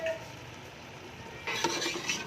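A spoon stirs chana dal and spinach in a cooking pot: soft, quiet scraping followed by a brief clatter of utensil against metal near the end.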